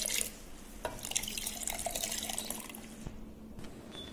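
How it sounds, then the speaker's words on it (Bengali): Water poured into a bowl of yogurt spice mix for a burhani drink, a steady close trickle and splash that fades near the end, with no talking. "এবার এর মধ্যে আমি সামান্য একটু জল দিয়ে দেব।"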